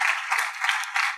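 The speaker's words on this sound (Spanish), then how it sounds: "¿Alguien le puede dar un aplauso fuerte al Señor en esta noche?" A church congregation applauding during an evening service, a short burst of steady, mid-loud clapping with rhythmic surges, no voices over it.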